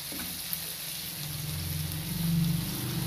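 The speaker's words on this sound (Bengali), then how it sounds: "সেই জন্য আমি আরও 2 মিনিট ভেজে নেব পেঁয়াজের সাথে।" Garlic, tomatoes and onions frying together in a pan for chicken kosha, a steady close sizzle that grows a little louder toward the end, with no talk.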